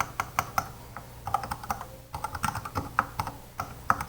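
Steady typing on a computer keyboard, a close, crisp run of key clicks with a short pause midway before the tapping resumes.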